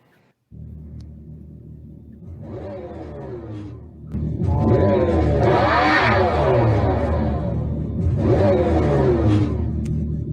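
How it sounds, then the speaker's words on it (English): An electric car plays an artificial V8 engine sound through its speakers, a synthetic rumbling roar that swells and falls in revving waves, loud and close. "they have V8 sounds coming from this electric car"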